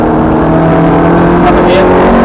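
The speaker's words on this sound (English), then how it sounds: "Now begin to accelerate just enough so you don't have to hit the brake." A Ferrari F430 on Thruxton Circuit accelerates with a steady, loud engine drone heard from inside the car, with an instructor talking over it for the whole short stretch.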